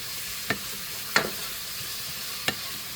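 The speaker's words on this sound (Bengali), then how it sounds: "ভালো করে এটাকে একটু কষতে হবে" Spices sauté in a hot pan with a soft, faint sizzle under three distinct scraping stirs from a utensil, spaced irregularly, close and quiet.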